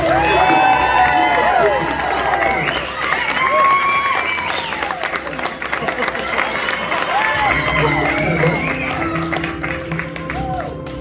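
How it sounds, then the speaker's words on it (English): Loud crowd applause and cheering fill the room, with scattered shouts and whoops over steady clapping that thins slightly toward the end. "Big round of applause, please."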